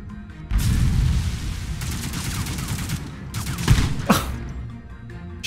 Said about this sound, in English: Shotgun to my face!